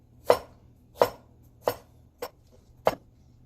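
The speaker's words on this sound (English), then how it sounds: "So you want to mince your ginger also." A knife chops and minces smashed fresh ginger on a board, landing five crisp, separate strikes at a slow, even pace, close and clear with no talk.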